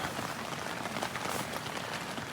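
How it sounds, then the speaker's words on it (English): Steady, dense rain patters continuously at a freezing cold campsite, a close, even hiss with no talking. "it's been raining for ages"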